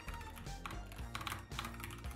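Rapid, busy typing on a computer keyboard, close and clattering in continuous bursts of key taps with only a brief pause, no voice heard.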